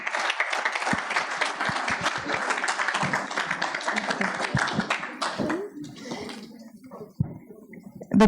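An audience at a panel session on water and climate change breaks into sustained applause that fills the room. The clapping thins and trails off toward the end, and a voice briefly comes in over it.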